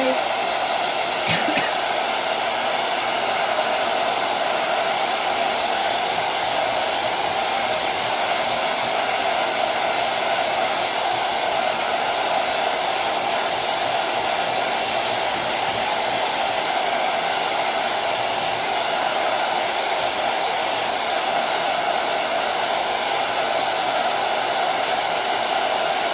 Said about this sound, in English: And I apologize, my dryer is pretty loud